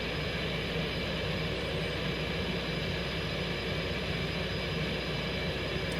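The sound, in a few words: F-18 jet engine in video game X-Plane 11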